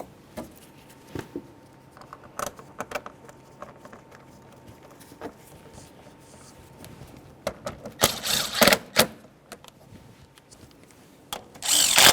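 A power tool drives 10mm mounting bolts on a 2012-2018 Nissan Altima 2.5L L4 during an upper radiator hose replacement, with short bursts and clicks, then louder whirring runs later, close by.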